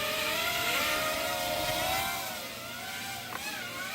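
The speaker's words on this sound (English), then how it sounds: "And that is a crash." A Craig 2.4GHz hover camera drone whines with high rotor tones that waver and dip. Near the end there is a short sharp knock as it crashes, and the motors keep buzzing faintly afterward.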